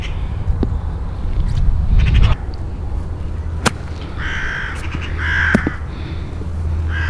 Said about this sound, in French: Mais c'est les corbeaux aussi là.